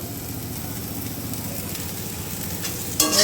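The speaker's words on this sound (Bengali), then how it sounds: "গোল গোল চাকা চাকা করে অল্প অল্প তেলে ভাজছি।" Round slices of vegetable frying in a little oil in a wok for a vegetarian lunch, a steady close sizzle and crackle throughout with a brief louder clatter near the end.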